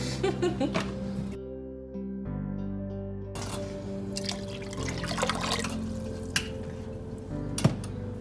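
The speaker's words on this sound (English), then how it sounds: "Follow that with 6 cups of my homemade vegetable stock." Homemade vegetable stock pours and splashes into a soup pot holding garlic and bay leaves for French onion soup, a close liquid gush with drips and a brief clink of the pot near the end.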